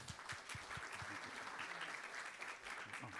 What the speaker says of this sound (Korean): 여러분 박수로 격려해 주시면 고맙겠습니다